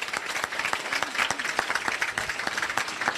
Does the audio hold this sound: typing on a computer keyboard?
no